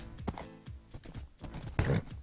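Horse hooves in a video game clop in quick, uneven beats at a faint level, a short run of galloping steps with no voices.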